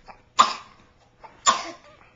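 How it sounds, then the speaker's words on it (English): Two sharp coughs about a second apart, close by, with a faint short sound before each and quiet in between. "Somebody's got a cough."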